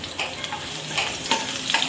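Garlic sizzles and crackles in hot oil in a pan, a close, steady frying hiss with small pops and a faint stirring clink.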